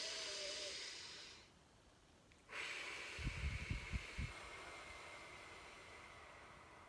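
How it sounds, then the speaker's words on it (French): A long, audible breath hisses softly through the nose or mouth, pauses, then a second drawn-out airy breath follows with a few brief low puffs, heard close and alone during a guided calming meditation breathing exercise. "Et vous soufflez doucement, vous expirez de façon quand même assez sonore."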